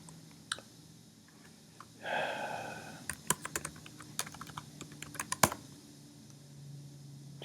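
Scattered computer keyboard key clicks while answering a Quizlet review game, quick and irregular, with a brief soft hiss partway through and bursts of faster typing toward the end.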